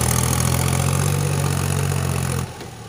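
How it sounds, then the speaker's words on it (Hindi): A tractor engine idling steadily during washing in a rural village, with a loud, low, constant rumble that cuts down abruptly near the end. "देखिए हमारे तरफ ट्रैक्टर को कैसे धोते हैं, आगे पीछे करके धो रहा है"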